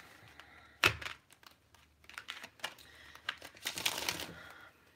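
Tarot cards get shuffled, with crisp riffling, rustling and tapping in short uneven bursts close up and quiet, with no talking.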